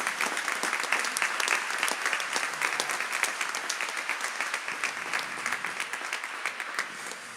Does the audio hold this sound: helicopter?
no